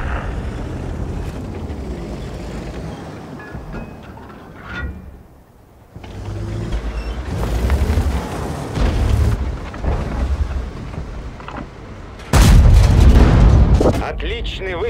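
Heavy tank cannon shots and booming explosions in a World of Tanks battle, loud and repeated with a big blast near the end, over continuous engine and battle rumble.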